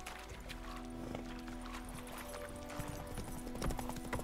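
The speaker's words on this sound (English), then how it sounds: "Where we got our horses at, my boy?" Horse hooves clip-clop in The Witcher 3 video game, a steady rhythmic run of close hoofbeats over a low rumble, with faint background game tones and no speech.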